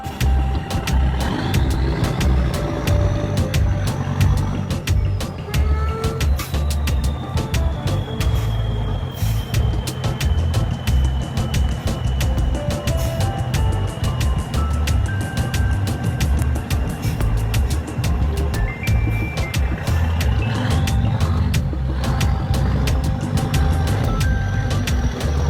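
Logging truck hauling a massive load uphill on a steep forest road, its engine labouring loudly and steadily with a rising and falling drone throughout, joined by music and no talking.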